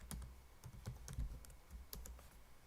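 Computer keyboard typing during Python coding, a quiet run of irregular key clicks over a low background hum, no talking.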